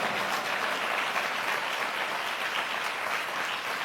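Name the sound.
congregation clapping hands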